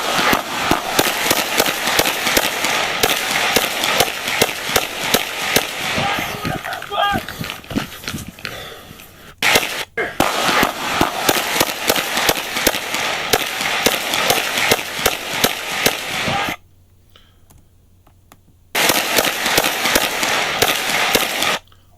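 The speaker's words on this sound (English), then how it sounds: "And of course, this officer returns fire." Gunfire rings out in police body camera footage during an officer-involved shooting, loud repeated shots in rapid bursts with a brief lull, as a radio and shouting voices overlap the chaos.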